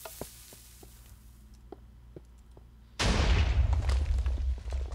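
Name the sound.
TNT cannon explosion in a video game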